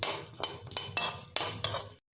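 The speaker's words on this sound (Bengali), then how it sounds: "এটাকে এখন আমরা মিনিট খানিক ধরে ভালোভাবে শুকনো গরম কড়াইতে রোস্ট করে নেব।" Whole cumin and spices dry-roasting in a hot wok, with a spoon or spatula clinking and scraping against the metal in quick, close, bright strokes for a couple of seconds.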